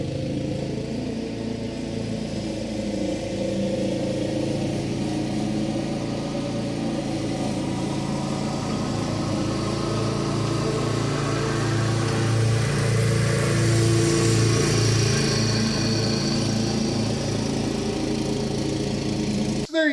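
A Bobcat walk-behind lawn mower cuts an overgrown, damp backyard, its engine droning loudly and steadily nearby, with slight swells in pitch as it works through the grass.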